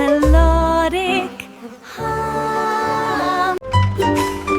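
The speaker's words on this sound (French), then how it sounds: "les abeilles bourdonnent et chantent toute la journée" Gentle children's song with sung melody over soft backing music, a buzzing bee tone woven through the tune, steady and fairly loud, with a brief pause partway before the melody resumes.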